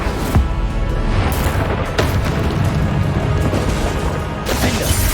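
Spell effects and booming, crashing impacts from the Incendio fire spell in a Hogwarts Legacy fight in the Forbidden Forest, heard as a dense, continuous roar of blasts with several sharp hits standing out.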